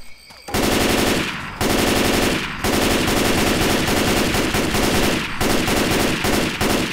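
Sustained automatic gunfire in the co-op game Left 4 Dead 2, loud rapid bursts broken by brief pauses for reloading, running almost continuously across the clip.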